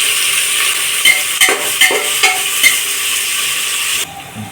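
Sliced medium-sized large onions sizzle steadily in hot oil in a pan, with a handful of soft stirring scrapes, the frying hiss dropping away near the end.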